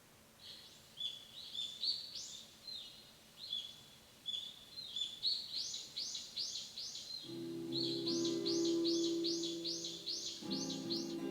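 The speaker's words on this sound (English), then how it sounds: "The chirping of birds can be heard through the window." Birds chirp outside a window as a visual novel sound effect, with rhythmic repeated tweets in quick bursts over a quiet background, joined later by a low steady tone.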